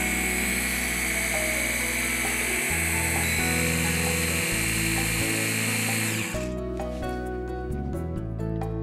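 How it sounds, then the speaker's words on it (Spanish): An electric hand mixer whirs loudly and steadily, beating cream cheese with a little added cream into a smooth, fine mixture, its motor pitch shifting as the beaters work through the thick blend. "vamos a seguir batiendo hasta conseguir una crema bastante fina"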